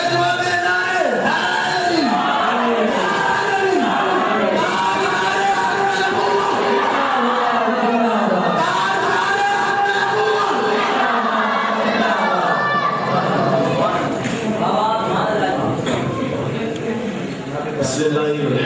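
A large crowd at a religious gathering chants back in loud unison to a slogan, with overlapping shouted voices and cheering filling the whole stretch, dense and echoing.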